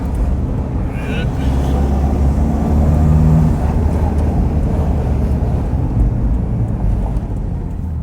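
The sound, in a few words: Toyota Hilux driving on test drive, pulling into traffic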